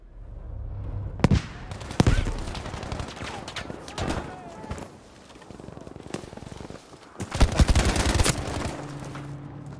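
Gunfire in the Battlefield V video game: sharp shots and bursts over a busy combat background, with clusters of loud reports early on and a heavier volley near the end.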